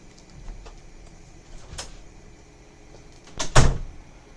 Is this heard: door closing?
yes